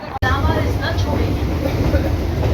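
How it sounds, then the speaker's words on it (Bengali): A Tarakeswar local train rushes along in the dark, its steady low rumble and rattle filling the carriage while a voice talks over it. "অন্ধকারে ছুটে চলেছে ট্রেন তারকেশ্বর লোকাল"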